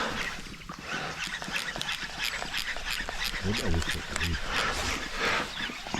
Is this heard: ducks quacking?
yes